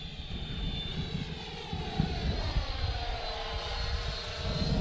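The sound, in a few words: FW Avanti S EDF model jet flying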